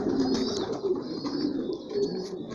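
Homing pigeons cooing in a soft, continuous low murmur of overlapping coos from several birds close by, with faint higher chirps above, no talking.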